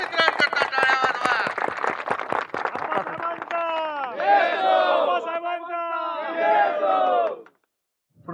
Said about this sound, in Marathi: माझ्या शेतकरी मित्रांकरता टाळ्या वाजवा